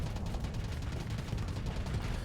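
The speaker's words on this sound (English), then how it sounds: "right now, that is a lot of gunfire." Heavy, continuous gunfire in space combat from the video game Starsector, with dense, rapid overlapping shots forming a loud, unbroken barrage for a couple of seconds.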